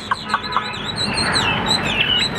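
A newly arrived golden-yellow Tam Hoang bird gives a few short, sharp chirps, then a loud, close, continuous warbling song, with no talking.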